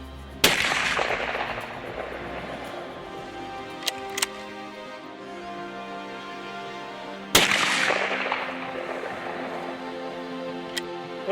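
A hunting rifle fired at a target on safari, two loud close shots several seconds apart, each a sharp crack followed by a long rolling echo, with faint small clicks between.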